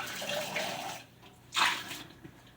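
Water runs and splashes while a cocktail shaker is rinsed out at a sink, a steady broadband wash for about a second, a short pause, then a louder brief gush and a few faint drips, with no talking.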